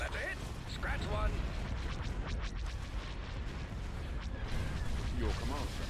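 Ion cannons fire in a space battle from the Star Wars strategy mod Thrawn's Revenge, rumbling booms and crackling bursts layered over a busy battle din, with radio-style voices chattering through it.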